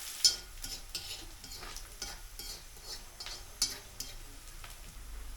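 Onion, garlic and green chilli frying in a pan, a soft, steady sizzle with scattered spoon clicks and scrapes as the mixture is stirred, fairly quiet and close.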